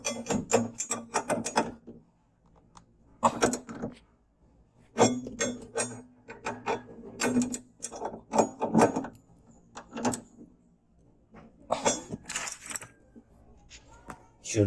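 Bolts on a Kia Picanto tow hook being tightened with a ratchet, heard as bursts of quick clicking and metallic rattling separated by short pauses, close up.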